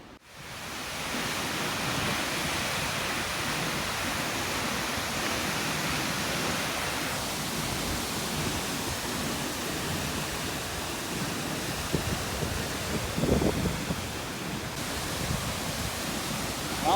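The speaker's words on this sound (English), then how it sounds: "just in case I didn't have enough waterfalls for one day, here is Outram's Bath. It's pretty spectacular too" Outram's Bath, a spectacular waterfall in Castleguard Meadows, roars as a steady, loud, broadband rush of falling water that fills the whole stretch without pause.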